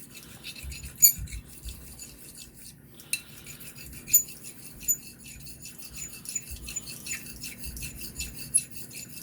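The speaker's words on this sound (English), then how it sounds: "What's the point of just rubbing your stone across here with feather-like contact?" A Vermont green slate sharpening stone rubs across a blade in light, repeated strokes, producing soft close scraping and rasping with occasional sharper scratches and no voices.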